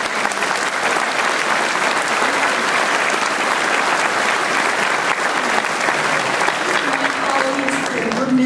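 A graduation ceremony audience applauds steadily and loudly, a dense wash of clapping from a large crowd that holds for the full span with no pause.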